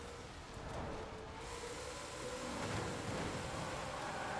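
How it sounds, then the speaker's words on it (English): Rain in the racing game Forza Horizon 4, driving a Shelby 1000. A steady, dense hiss of rainfall with a low rumble beneath runs throughout and swells slightly toward the end. No one speaks. "The rain is not helping."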